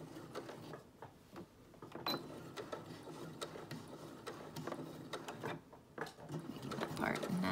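Domestic sewing machine stitching the side seam of a dress before binding, a busy mechanical whir with irregular clicks continuing steadily throughout, with some background voice.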